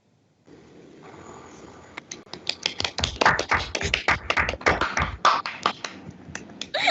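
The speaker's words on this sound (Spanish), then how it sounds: "Un aplauso desde acá" Scattered, uneven handclaps from a small group in a university biochemistry class start after a quiet stretch and build into a loose patter of applause that runs to the end.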